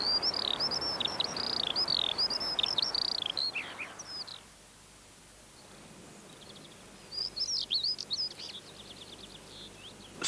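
Skylark song in open country: rapid, high, warbling trills pour out continuously for several seconds, pause into near quiet, then resume with another burst of fluttering chirps.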